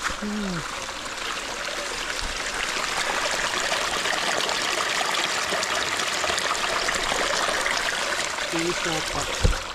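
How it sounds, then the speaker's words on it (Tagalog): A stream flowing beside a road makes a steady, broad rush of water close by for the whole stretch, with brief voices near the start and end. "Ayos yung sapa dito eh."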